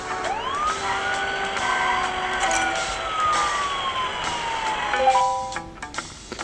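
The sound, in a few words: ambulance siren in Does Not Commute mobile video game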